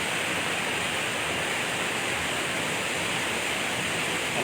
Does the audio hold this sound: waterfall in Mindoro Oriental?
yes